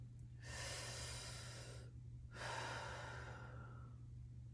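Two slow, deep breaths drawn in and let out through the mouth, each a long airy rush of a second or two, close and soft, with a brief pause between them and no talking.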